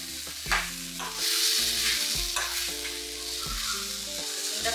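Onions and tomatoes sautéing in a pan for sundakkai kuzhambu, a Tamil turkey berry tamarind curry: a steady close sizzle with repeated stirring scrapes, heard alone without talk.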